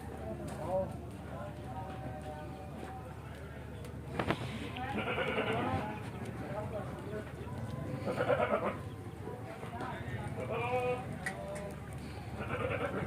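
Goats bleat several times, nearby, in short wavering calls between people talking at a goat market in Lahore.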